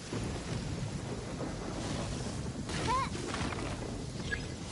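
Stormy weather in the Inazuma region of the video game Genshin Impact: a steady wash of heavy rain with low, rolling thunder rumbling beneath it, constant and fairly loud throughout.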